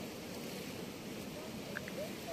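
Floodwater rushes through a university canal, normally dry, during heavy rain in Madinah, giving a steady broadband roar of flowing water with wind noise and no clear pauses.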